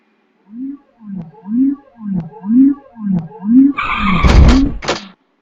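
A car stops suddenly and its tires skid, heard as one short, loud screeching burst near the end, after a series of rhythmic tonal sounds.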